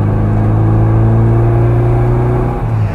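A classic Mini car's engine drones loud and steady from inside the cabin, a low sustained hum holding pitch for a few seconds before dipping slightly, with no talking.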